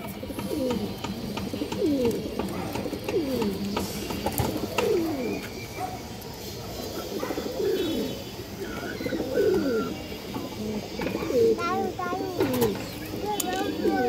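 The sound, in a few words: pigeons cooing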